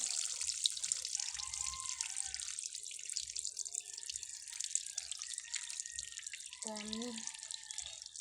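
Water spills and drips steadily from an opened washing machine that would not drain, a faint continuous trickle with a brief gurgle near the end.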